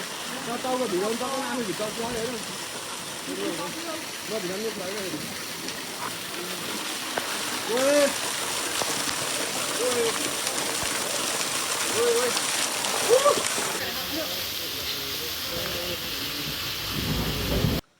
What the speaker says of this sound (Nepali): हामी पुरै भिजिसकेको छ केटा हो पानी पर्यो